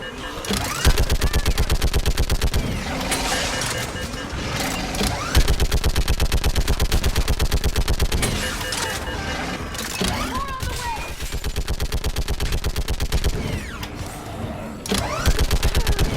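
Sustained automatic gunfire rattles through a Mass Effect video game battle, dense rapid bursts running almost unbroken for the whole stretch, with shouted voices heard over the shooting.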